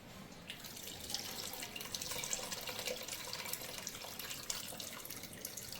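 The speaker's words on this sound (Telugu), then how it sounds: "ఈ పీతల ముక్కల వరకు మునిగేంత వరకు మనం పులుసు అయితే పోసుకోవాలి." Broth pours steadily over pieces of hunted crab for a curry, a continuous close splashing and trickling of liquid with no voices.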